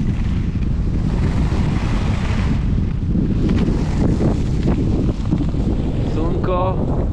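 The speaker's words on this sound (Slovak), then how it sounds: "južné vetry zo Sahary." Strong southern wind carrying Saharan sand roars across a ski slope, buffeting the microphone in a loud, constant gusty rush.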